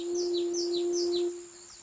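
A clay sazsyrnai whistle is blown gently, holding a steady pure tone while a higher warbling chirp repeats about four times like birdsong, then the note softens near the end.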